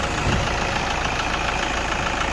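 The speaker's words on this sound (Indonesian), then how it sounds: "Ini posisi mesin nyala ya." A 2008 Toyota Innova diesel engine idles steadily close by, a dense continuous rumble with a slight knocking texture and no talk.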